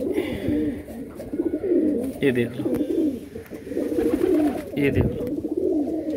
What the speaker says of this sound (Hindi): ये है मेरे मंद्रासी कबूतर सारे